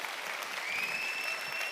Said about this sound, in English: And then eventually it spreads through the whole group, and everyone's applauding.